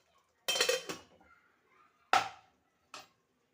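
A metal lid knocks and rattles against a pan of cooking tomatoes in a prawn masala curry, one longer clatter followed by two brief clinks, close up with quiet between them.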